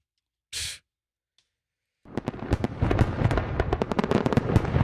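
Fireworks set off outdoors for the 4th of July, starting with one brief burst, then a dense run of sharp pops and crackles that rises into a loud, continuous barrage.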